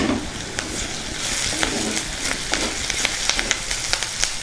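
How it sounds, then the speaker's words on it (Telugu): Curry leaves crackle in hot tempering oil with turmeric for a bitter gourd and tomato curry, making a soft steady sizzle with sharp little pops scattered throughout. "ఇప్పుడు కొద్దిగా కరివేపాకు వేసుకుందాం."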